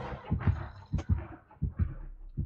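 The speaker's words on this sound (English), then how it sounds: "I just heard heartbeats" Heartbeat warning sound from the video game Dead by Daylight: a steady series of low, thudding double pulses repeating about every half second, moderately loud with no talk over it.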